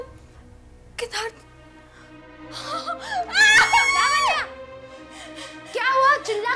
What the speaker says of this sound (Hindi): चिल्ला क्यों रही हो?